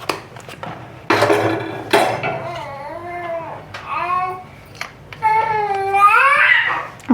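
Baby babbling and wailing in a home kitchen, drawn-out crying and cooing calls rising and falling in pitch, close and loud, with faint kitchen clatter beneath.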